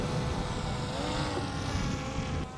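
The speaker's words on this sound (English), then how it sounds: "Now the drone's just going to drift away from us." A DJI drone flying over water from a moving boat: a steady whirring hum fills the air, loud and continuous, with a slight drop at the very end.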